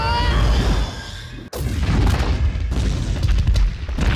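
Missile explosions from the 2019 Captain Marvel film: heavy, loud booms and rumbling blasts, with a sharp break near the middle, then continued crashing roar.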